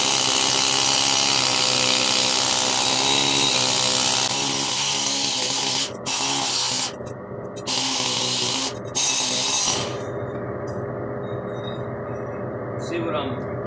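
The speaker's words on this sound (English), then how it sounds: "See what I'm needle scaling here?" A needle scaler chatters against a truck's rear axle, knocking crud loose with a loud, dense, buzzing rattle that cuts out and restarts a few times before dropping to a lower, steadier drone.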